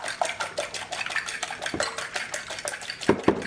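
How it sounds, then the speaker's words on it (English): An egg is whisked in a bowl with black pepper, giving a quick, steady run of close metallic clinks and scrapes against the bowl, with a few sharper knocks near the end. "You whisk that egg up really well."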